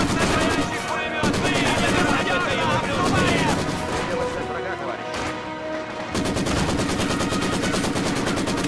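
Machine gun fire in the World War II strategy game Company of Heroes 2 rattles in rapid, dense bursts, mixed with crashes and blasts, and keeps going almost without a break while someone talks over it.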